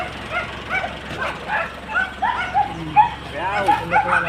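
A dog yips and whimpers in quick, high-pitched bursts close by, mixed with people talking outdoors during a team-building food trip.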